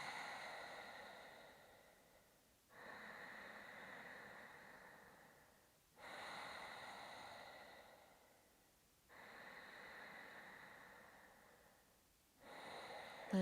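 Strong throat breathing during a yoga flow: slow, audible ujjayi inhales and exhales alternating in long, even cycles of about three seconds each, close and alone with no talk.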